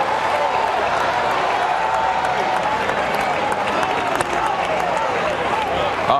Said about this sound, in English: He's worthy of your hand clap.